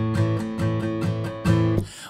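Acoustic guitar strummed in a rhythmic pattern on barre chords, a series of bright, evenly paced strokes with short muted chops between them, ending in a damped stop.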